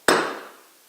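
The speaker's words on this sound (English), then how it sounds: "We'll use our hammer and we're just going to give it one blow." A single sharp hammer blow strikes a cable lug crimper while crimping a lug onto a power inverter cable, a loud metallic crack ringing briefly and fading, with a faint second tap at the very end.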